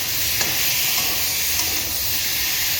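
Potatoes frying in a pan with black cumin and green chili, a steady, dense sizzle and hiss held close throughout, with a few faint stirring clicks and no talking.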